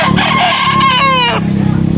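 A rooster, a 14-month-old bird for sale at a market in Tabunok, Talisay, Cebu, crows once, loud and close, with a rising then held cock-a-doodle call and faint clucking around it.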